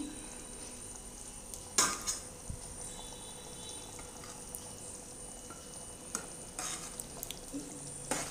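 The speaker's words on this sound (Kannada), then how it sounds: "ಬೆಣ್ಣೆ ಎಲ್ಲ ಕರಗಿದೆ. ಇವಾಗ ತುಪ್ಪ ಆಗ್ತಾ ಇದೆ." Butter melting and simmering in a pan on the stove as it slowly turns into ghee, with a soft continuous low sizzle, a few sharp clinks of a small ladle against the pan, and occasional faint scrapes.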